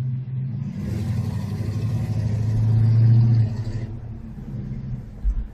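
A Chevrolet K20 truck engine rumbles steadily while driving on the road, swelling louder midway as it accelerates before settling back to a continuous low drone.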